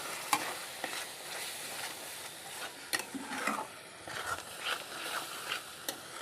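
A spoon scrapes and stirs chicken curry spices frying in a pan with salt, giving irregular quiet scratches over a faint, continuous sizzle, with no voices.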